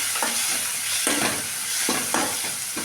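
Onions and tomatoes sauté in a pan for a jackfruit curry gravy, with a steady sizzle broken by repeated scraping stirs of a spoon against the pan, several strokes close together.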